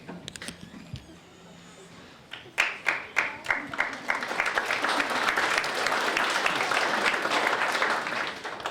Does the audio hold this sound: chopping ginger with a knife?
no